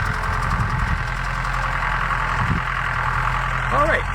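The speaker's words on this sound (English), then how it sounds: "Can you hear the tractor?" A tractor engine runs nearby outdoors with a steady, low idling rumble and a faint knocking throb that holds through the whole stretch and swells slightly near the end.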